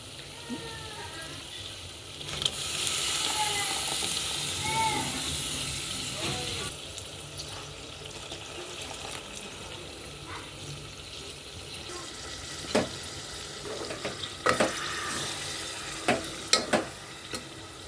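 Andhra-style chicken gravy curry frying in a pan as tomato puree goes in, with a steady sizzle, stirring scrapes and clinks, and a voice talking faintly in the background.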